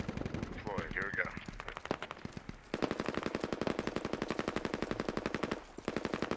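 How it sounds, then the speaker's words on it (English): Sustained rapid machine gun fire from the military shooter game Squad rattles in long, evenly spaced bursts, loud and close, with a short voice heard early under the first shots. "That's a machine gun."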